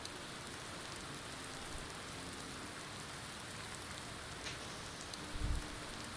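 Steady rain in the video game Skyrim, at Helgen, patters on a surface, a soft constant hiss with no voices, and a faint low thump near the end.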